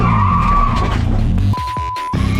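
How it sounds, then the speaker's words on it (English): A Nissan S13 drifting at Ebisu Circuit in Japan, engine roaring under a long tire squeal, then the engine drops away and two or three sharp, sweeping squeals cut in close by. "I want to try to get some drifting in today."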